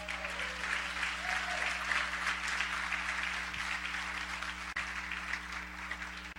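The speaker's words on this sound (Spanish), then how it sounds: "Dale un aplauso de gloria al Señor" A church congregation applauds steadily for several seconds, a dense wash of many hands clapping at moderate loudness with a faint low hum beneath.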